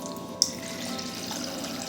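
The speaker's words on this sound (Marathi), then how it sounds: "पाणी वतते, थोडंच वतायचं आहे, जास्त नाही" Water is poured into washed lentils in a vessel for varan chakolya, a soft steady splashing flow just after a sharp little knock, close by and with no voices.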